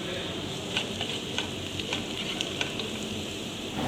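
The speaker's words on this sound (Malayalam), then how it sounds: "ഇഞ്ചി വെളുത്തുള്ളി പച്ചമുളക് ഇവയും കൂടി ചേർത്ത് യോജിപ്പിച്ചിളക്കുക" Ginger, garlic and green chili stirred in a hot frying pan for a potato curry, giving a dense continuous sizzle with light rhythmic spatula scrapes throughout.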